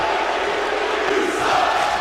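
A wrestling video game arena crowd roars in a steady, dense wash of displeased noise, loud and continuous with no talk over it.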